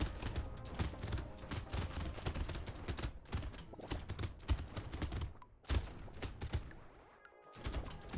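Rapid shotgun fire in the video game Brotato with a farmer character, dense overlapping bursts of blasts and thumps in quick succession with brief gaps, loud and busy throughout.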